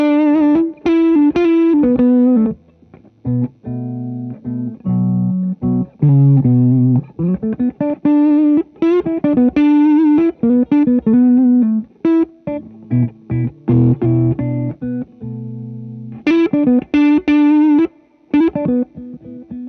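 Electric guitar played through a Dr Z Maz and a Two Rock Classic Reverb Signature amp together on a Magma57, loud and distorted, with strummed chords and single-note phrases broken by short pauses.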